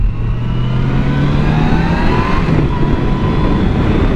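Motorcycles on a group ride, a yellow KTM Duke and a Kawasaki W650 retro bike, cruising close and loud with a steady engine drone and rising rev tones under strong wind rumble.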